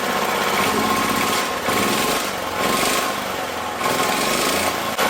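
A small generator engine running steadily nearby and failing to rev up properly, a loud buzzing drone with slight surges and dips in its pitch and rhythm.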